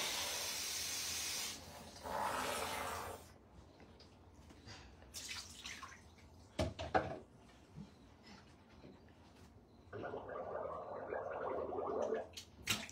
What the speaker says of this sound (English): Rinse your mouth with that.